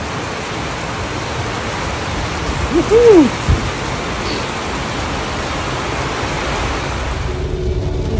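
Heavy rain pours steadily in town, a dense continuous hiss close by, while someone briefly calls out in an excited whoop partway through.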